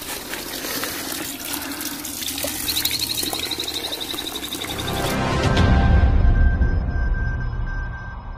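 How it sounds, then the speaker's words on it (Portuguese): Spring water runs from a small spout beside a trail near Paraty, a steady close splashing stream. The flow swells into a heavier, fuller gush partway through. "Aqui na parte da trilha tem uma biquinha aqui, ó. É muito bom para beber água, hein?"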